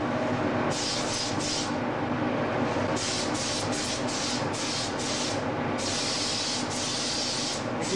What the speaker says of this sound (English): the spray gun is set in a horizontal pattern so that you can spray vertically and your pattern is horizontal